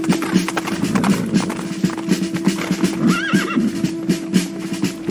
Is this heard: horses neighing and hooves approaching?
yes